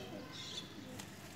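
A long-flying domestic pigeon kept by a Pakistani fancier coos softly, a faint low murmur in a quiet setting, with a brief higher call near the end.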